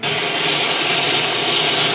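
A spaceship's jet engine in an old film serial gives a loud, constant roaring rush, steady and unbroken throughout with no voices over it.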